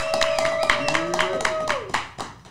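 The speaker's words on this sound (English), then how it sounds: "Yes, round of applause for NeNe Leakes." Studio audience clapping for NeNe Leakes during a talk-show chat, a scattering of quick hand claps over a sustained musical tone, with voice-like sounds mixed in.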